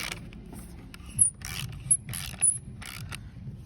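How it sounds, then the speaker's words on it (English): A ratchet with a 12mm socket tightens bolts into a wall, giving quiet clicking and ratcheting bursts at a close, even pace, with a few brief sharp squeaks over a low background hum. "12mm socket on a ratchet. Make sure they're all nice and tight."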